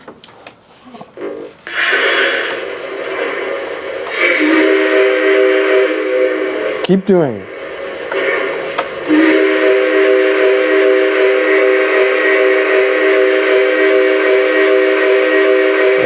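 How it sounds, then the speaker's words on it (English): Toy trains circle a Christmas tree in a home with a steady mechanical hum, and a whistle toots loudly with a falling wail midway. Someone speaks briefly near the start. "we take these trains and we run them around the Christmas tree"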